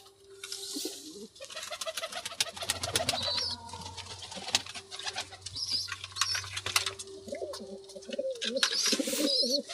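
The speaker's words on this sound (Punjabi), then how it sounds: "ਹੁਣ ਸਾਰੇ ਕਬੂਤਰ ਆ ਗਏ ਨਾ ਪੀਣ ਨੂੰ" Pigeons coo repeatedly at close range while drinking water, with soft wing flaps and scattered chirps from other birds around them.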